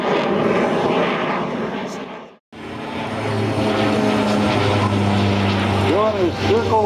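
A Yak 55 aerobatic propeller airplane drones loudly overhead at an airshow, its engine pitch rising and falling as it maneuvers, with a brief cut in the sound partway through.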